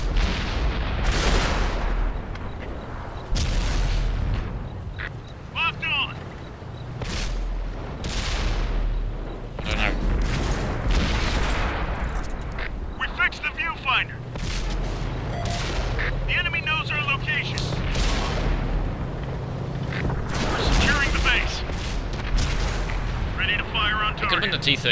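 Repeated cannon fire and shell impacts from tanks in the World of Tanks video game on Xbox One, with several sharp booms spread across the stretch, loud and close, over steady engine rumble and intermittent talking.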